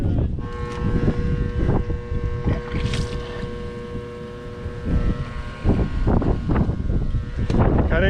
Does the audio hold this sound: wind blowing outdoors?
yes